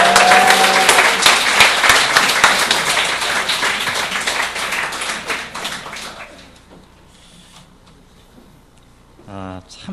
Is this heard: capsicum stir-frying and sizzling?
no